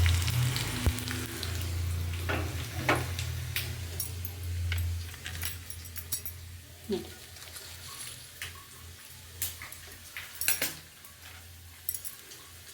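Curry leaves and chili crackle and sizzle in hot oil for a vegetable pulao, with a steady frying hiss, sharp scattered pops and spits, and a low hum underneath.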